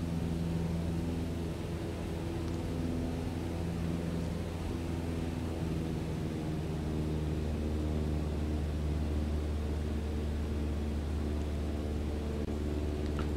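A Cessna 152 engine drones steadily during a climb after takeoff at Wycombe Air Park in Microsoft Flight Simulator 2020, a constant buzzing hum with no breaks and no talk over it.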